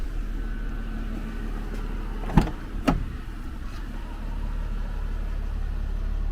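A Mercedes-Benz central locking system unlocks, giving two sharp mechanical clunks about half a second apart over a steady low hum of the car.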